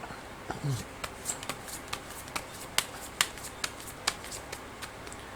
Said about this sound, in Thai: เสียงไพ่